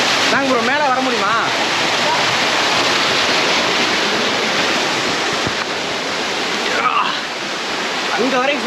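A waterfall on Azhagar Malai near Madurai, Tamil Nadu, where people bathe, gives a loud, steady roaring rush of falling water. Voices cut in briefly near the start and again toward the end.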